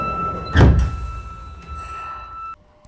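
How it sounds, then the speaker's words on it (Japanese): Doors of a Sapporo Municipal Subway 9000 series train close at a station with a single loud thump, followed by a steady electronic tone and hum that cut off abruptly near the end. "列車の扉が閉まります。"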